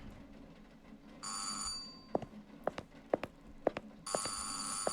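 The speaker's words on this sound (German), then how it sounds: "Wo war denn hier das Telefon?" A telephone rings in the horror video game Burnhouse Lane, two bursts of a bright trilling bell tone with footstep-like knocks between them, moderately loud over a low ambient hum, no talking.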